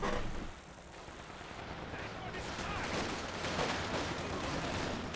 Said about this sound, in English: Lots of bullets into the infiltration commandos